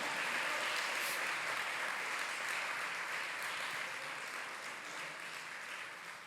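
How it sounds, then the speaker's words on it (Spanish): A church congregation claps steadily in sustained, even applause throughout a sermon service, heard fairly faint and without speech. "dele un aplauso al de al lado"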